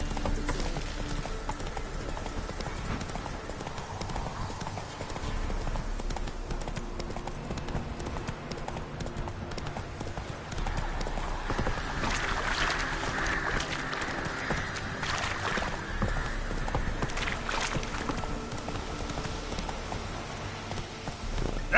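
Geralt's horse Roach galloping in The Witcher 3, fast continuous hoofbeats pounding for over twenty seconds beneath a thick layer of game music and ambience, close and steady.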